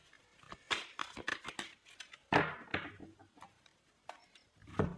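A tarot deck is cut and handled, giving a quick series of soft card slaps, flicks and riffling clicks, close and fairly quiet with uneven spacing.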